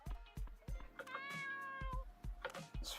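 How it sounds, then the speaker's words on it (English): A cat meows repeatedly in the video game Dave the Diver, a series of short, clear calls with one longer drawn-out meow in the middle, set against a light rhythmic background thump. "Let's feed the cat."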